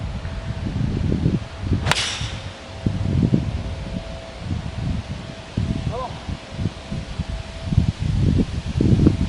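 A 4-iron golf shot gives one sharp, close click of impact amid wind and rustling leaves, with someone talking before and after the swing.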